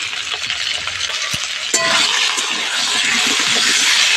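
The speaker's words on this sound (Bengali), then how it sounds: "নুন হলুদ দিয়ে আলুগুলো একটু ভালো করে লাল লাল করে ভেজে নেব।" Potatoes fry in mustard oil with salt and turmeric, a close, bright sizzle that swells after a spoon clink and keeps going steadily, with occasional scraping stirs against the pan.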